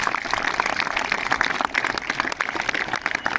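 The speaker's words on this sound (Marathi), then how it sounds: "जोरदार टाळ्या तुमच्यासाठी" Steady applause from a school audience at a Yoga Day 2024 event, dense continuous clapping throughout at moderate volume.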